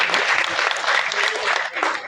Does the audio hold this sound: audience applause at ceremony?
yes